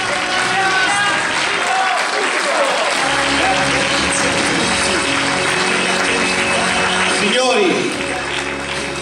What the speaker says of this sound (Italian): Signori, grazie a tutti voi per i vostri applausi.